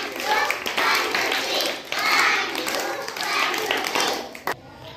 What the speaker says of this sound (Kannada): ಇವನ್ಗೆ ಎಲ್ಲರೂ ಚಪ್ಪಾಳೆ ಹೊಡೀರಿ